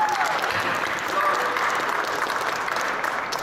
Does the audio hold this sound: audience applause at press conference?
yes